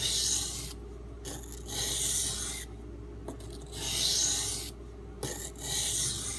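A knife blade is rubbed back and forth across a Norton 220 grit water stone in steady, rhythmic rasping strokes, close and fairly quiet, with brief pauses between passes.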